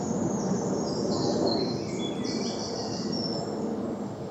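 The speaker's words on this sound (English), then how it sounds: "A bit more bird song in here because it's nice and cool." Birds sing in a cool woodland copse along a walk from Hever to Tonbridge, with high chirps and warbling phrases, wren and blackcap among them, over a constant low rumble of distant jets and background noise.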